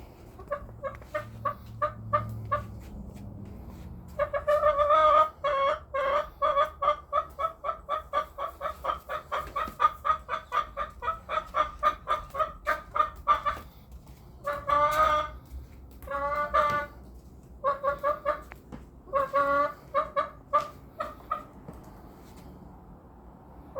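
A lone chicken clucks close by in a rhythmic run of short, repeated calls, with brief pauses between clusters, over a quiet background.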